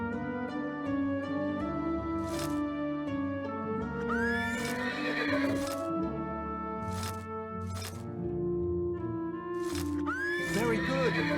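Horses in the PC game Horsez neigh and whinny repeatedly, with loud high-pitched calls rising over a steady musical background, alongside some hoof-like clatter.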